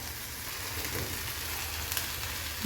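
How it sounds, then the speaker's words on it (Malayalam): Yogurt and masala sizzle in a hot frying pan for paneer, a steady faint hiss and crackle running continuously with a small clatter at the end. "അപ്പോൾ ഇനി നമുക്കിതിനകത്തേക്ക് നമ്മുടെ മിക്സ് ചെയ്ത് വെച്ച തൈരും മസാലകളും ഇടാം കേട്ടോ."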